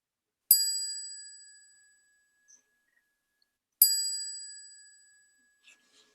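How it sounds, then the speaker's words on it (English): Two clear bright chime strikes at a church service, each ringing out and decaying slowly over about a second and a half, spaced roughly three seconds apart in an otherwise quiet room. "At the sound of the chime, our service begins."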